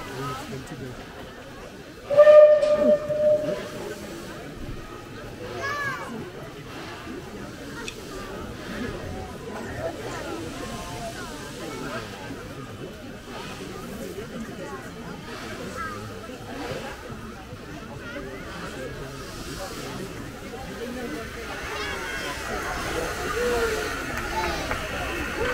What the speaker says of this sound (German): Sie sehen jetzt die 97208. Sie ist heute die älteste Dampflokomotive